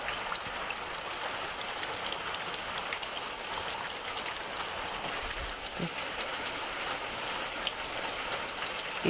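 Steady rain falls outdoors near a house as a constant soft hiss of drops pattering on surfaces, fairly faint and even throughout, with no voices.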